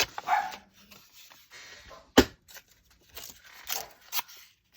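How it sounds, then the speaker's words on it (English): A dog barks indoors in a few short, scattered bursts at moderate distance, with quiet rustling and small handling noises between them. "The dog's barking at nothing."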